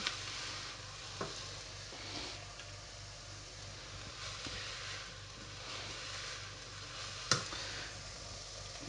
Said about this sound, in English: So, a clove of garlic in. Give it a stir around.